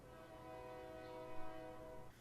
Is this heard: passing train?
yes